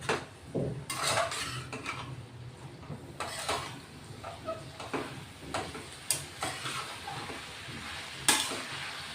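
Chopped leafy vegetable cooks in a pan with a low sizzle, punctuated by intermittent clinks and scrapes of a spoon stirring against the metal.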